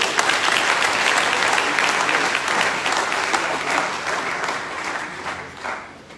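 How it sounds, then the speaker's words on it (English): An audience at a university inaugural mathematics lecture bursts into sustained applause, a thick wash of many clapping hands holding strong for several seconds before tapering off toward the end. "Can we give a round of applause, please?"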